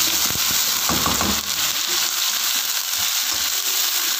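Onions hit hot oil alongside already-fried arvi (taro root) and sizzle loudly, with a few sharp crackling bursts near the start before settling into a steady frying hiss, no voices.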